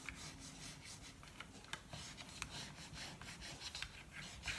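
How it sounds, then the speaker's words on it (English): A bone folder burnishes the paper edges of a small 3x3 mini card album, giving a faint, continuous scraping rub with small irregular scratches throughout. "I'm just burnishing along the bottom and along the sides"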